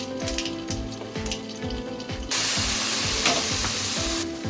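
Mustard seeds sizzle and crackle in hot oil in a frying pan, with a steady bright hiss that jumps louder partway through, over repeated scraping stirs, during home cooking of fish roe fritters in tamarind sauce.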